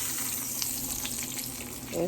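Pork chops fry in a pan with a steady, close crackling sizzle throughout, briefly joined by a faint voice near the end.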